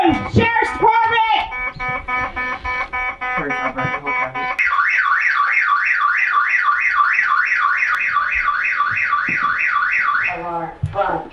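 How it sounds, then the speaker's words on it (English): A home security alarm runs a loud warbling siren tone that rises and falls rapidly for several seconds, after earlier chirping alarm beeps, with a voice calling out during a sheriff's house search. "Alarm, front door,"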